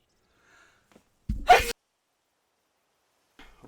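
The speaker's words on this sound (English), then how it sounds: "Hopefully I was able to cut off that sneeze." A single short, sharp human sneeze bursts out close to the microphone in an otherwise quiet room, with a faint breath just before it.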